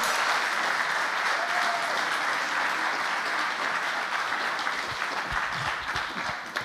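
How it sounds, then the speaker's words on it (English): Applause from an audience at an indoor stage launch event for a Black History Season, steady and dense throughout with many hands clapping, fading slightly at the end. "Big round of applause, please."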